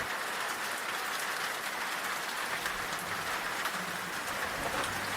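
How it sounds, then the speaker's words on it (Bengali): Heavy rain pours down steadily by a riverside, a dense, even patter with no pauses and no voices over it. "বুঝতে পারছি না এতটা জোরে বৃষ্টি শুরু হয়ে যাবে।"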